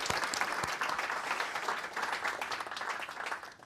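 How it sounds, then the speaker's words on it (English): A conference audience claps for the first panel of an IT modernization event, a fairly quiet, steady patter of many hands that thins out toward the end. "So a round of applause for our first panel."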